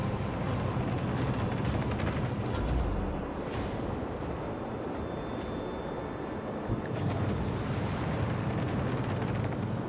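A torpedo blast in the Warhammer 40,000: Rogue Trader game, heard as a deep, rumbling explosion. Low booms swell through a dense, continuous roar of battle noise, with a couple of louder bursts.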